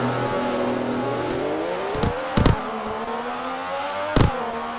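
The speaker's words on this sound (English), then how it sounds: "As now they all try and race round." Race cars in a video game lapping a track, a steady droning engine roar with pitch shifting as they accelerate, punctuated by a few short sharp bursts from nearby cars.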